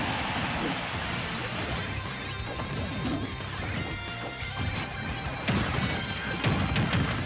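Forward smash attacks in a Super Smash Bros grand final match land amid dense, loud game audio, with repeated crashing impact hits over a continuous noisy background.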